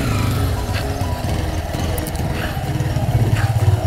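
A Yamaha R15 V3 motorcycle, freshly washed, starts up and runs at a low idle, a close, steady engine rumble with a slight rise in revs near the end and no talking.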